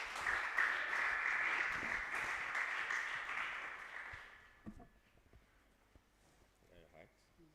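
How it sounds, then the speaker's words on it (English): Audience applause at a secondary school debate competition, a dense crowd clapping loudly for about four seconds before tapering off into scattered claps and murmurs. "Give her a round of applause as she comes forward."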